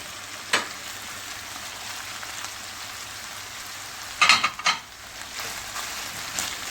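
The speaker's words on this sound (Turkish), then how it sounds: "Soğanla birlikte biberi de ekleyelim arkadaşlar. Birlikte soteleyeceğiz." Onion and pepper sautéing in a pan for chicken curry sauté, a steady faint sizzle with a few brief louder stirring clatters partway through, no voices.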